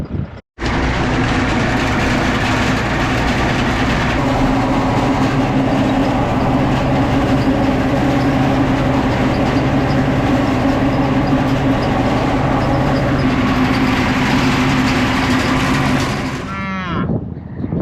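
A tractor-driven topper cuts thistles in a field with a loud, steady mechanical drone. The roar runs unbroken for about sixteen seconds, then winds down and stops near the end.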